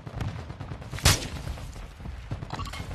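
A single sharp gunshot cracks out in the video game Call of Duty Warzone, one loud close report standing above steady background game noise, with softer, faint shot-like pops around it.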